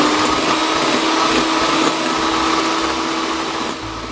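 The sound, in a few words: electric mixer beating egg whites with sugar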